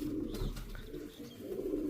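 Young Malwai pigeons cooing in soft, low, repeated calls, close by and steady throughout, with no talk over them.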